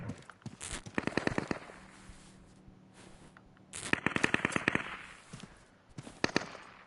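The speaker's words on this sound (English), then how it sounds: "That's a turret." Turret gunfire in the video game Deadside: rapid crackling bursts of automatic shots at a moderate distance, two main volleys separated by a quieter gap, then a short final burst.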